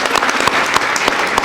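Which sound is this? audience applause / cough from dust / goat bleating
audience applause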